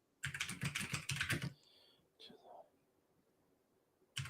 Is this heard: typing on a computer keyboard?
yes